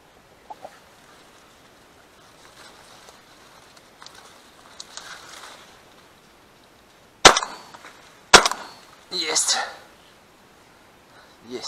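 Two sharp, loud shotgun blasts crack a second apart during a pigeon hunt in Belarus, followed by a brief rustling burst. Quiet outdoor ambience and faint low voices come before the shots.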